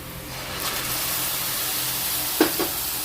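Ground tomatoes hit a hot pan, giving a burst of frying sizzle that settles into a steady hiss, with a couple of sharper spattering pops near the end; close and moderately loud, no talking.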